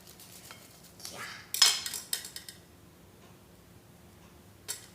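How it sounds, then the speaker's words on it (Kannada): A lemon being cut with a knife: a few quiet, close taps and clicks of the blade against a surface, grouped near the middle, then a single faint tap at the end. "ಲೆಮನ್ ಆ್ಯಂಡ್ ಚಾಕು ಕಟ್ ಮಾಡ್ತೀನಿ."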